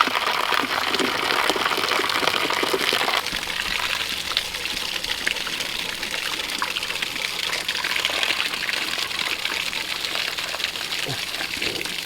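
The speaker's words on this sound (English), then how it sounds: "You got to come drink out of the garden hose." Water running steadily from a garden hose, a continuous broadband trickle and splash that stays close and fairly loud throughout, with a brief heavier gush near the start.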